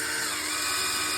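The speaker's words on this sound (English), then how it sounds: "I use my drill and an attachment here" A power drill fitted with a mixing attachment stirs paint for kitchen cupboards, giving a steady high-pitched whine with a faint churning underneath.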